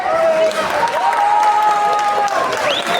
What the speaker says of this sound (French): Un peu d'applaudissements pour Cyprien, s'il vous plaît